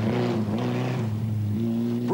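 A Nissan Pulsar rally car at the 1994 Daybreaker rally, its engine droning steadily at high revs with a slight dip and rise in pitch, loud and close, with no voices.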